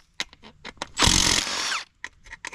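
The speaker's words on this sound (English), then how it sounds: "Super easy, just put a drill." A power drill whines loudly at close range for under a second, cutting off abruptly, surrounded by sharp knocks and scraping, while cleaning dirty aluminum.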